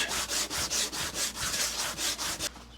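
Hand sanding a 1998 Mercedes C230 body panel with 80 grit sandpaper, about a dozen quick rhythmic rasping strokes close up, then it stops.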